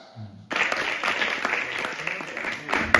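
A burst of audience applause at a festival starts abruptly after a brief quiet moment and continues at moderate, fairly even loudness.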